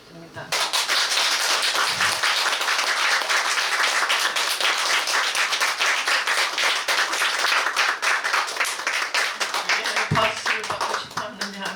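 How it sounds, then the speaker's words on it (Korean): Audience applause and clapping at a commemorative talk about the October uprising, a dense sustained burst of hand claps starting abruptly and continuing for about ten seconds before tapering off. "박수 한번 받고 싶습니다."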